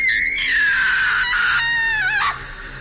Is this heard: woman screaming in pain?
yes